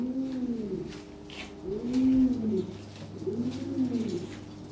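King pigeons coo close by in three rounded, repeating phrases with a low hum underneath and no talking.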